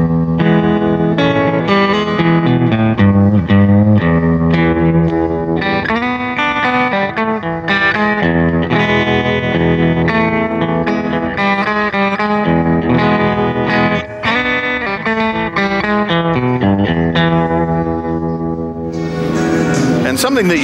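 Electric guitar chords through a BOSS FDR-1 pedal's Deluxe Reverb vibrato circuit, loud and continuous, with a pulsing vibrato wobble, the tone throbbing rhythmically throughout.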